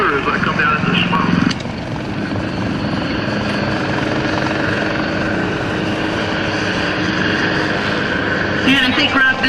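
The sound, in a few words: helicopter rotor descending into smoke at airshow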